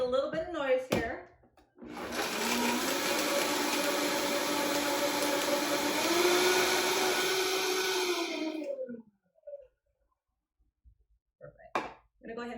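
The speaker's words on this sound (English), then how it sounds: "we're going to blend this up, so it's going to make a little bit of noise here." Kitchen blender whirring loudly and steadily for about seven seconds while blending recipe ingredients, pitch shifting slightly as the load changes, then cutting off; brief talk before and after.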